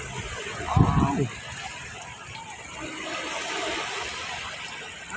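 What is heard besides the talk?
sea waves at beach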